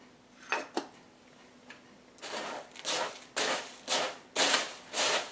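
Panko crumbs and a tablespoon of salt stirred in a bowl, heard as a few light scrapes followed by a steady run of louder, rhythmic scraping and rustling strokes, close up with no talking.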